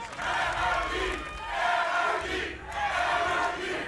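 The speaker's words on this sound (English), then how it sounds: "And the NRG crowd has awoken again." An esports arena crowd at the VCT Americas Grand Final between LOUD and NRG roars and chants for NRG in loud rhythmic swells, three big surges of massed voices filling the hall.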